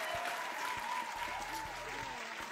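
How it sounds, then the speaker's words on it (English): An audience applauds contestants with a dense, steady wash of many hands clapping at once, fairly close and continuous, with faint voices underneath. "Clap for them."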